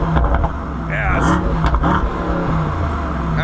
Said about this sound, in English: We got some pops and crackles in there.